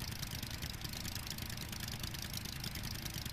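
A boat engine in the Stranded Deep survival game runs at a steady, continuous drone with a rough low rumble and no talk over it.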